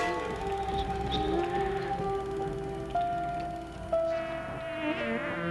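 Mesopotamian bees buzz in a drifting, tonal insect drone of moderate loudness, the pitch shifting slightly as individuals pass, with no speech.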